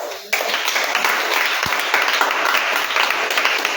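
A church congregation breaks into sustained applause and clapping during a Sunday service, a dense, steady wash of many hands that starts abruptly and carries on evenly to the end.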